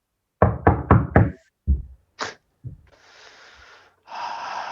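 Four quick knocks rap on a bedroom door close by, followed by breathy snorts and gasps and then a steady hissing rush of breath or air.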